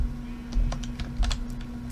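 Computer keyboard keys tapped in a short irregular burst of clicks, close and fairly quiet, over a faint steady background hum.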